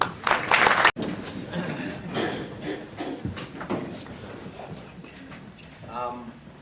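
An audience at an Albany gathering claps in a short burst of applause at the start, which fades into scattered claps as someone speaks over it.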